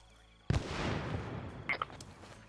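A frag grenade detonates in a video game with a sudden sharp boom that decays into a long rumbling tail, followed by a couple of smaller clanks; speech is present alongside it.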